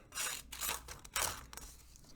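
A dull knife drags and tears through paper in a few short, rough, crackling bursts, close and fairly quiet.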